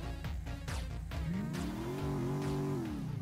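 The engine of a classic Cadillac Eldorado revs loudly and continuously, its pitch climbing, holding and then dropping again, with no voices.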